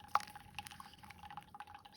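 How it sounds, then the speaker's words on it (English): Water is poured into concentrated coffee in a ceramic cup to dilute it, a faint, close trickle with small drips and glassy clinks and no one talking. "I dilute it with half water and half of this concentrated coffee."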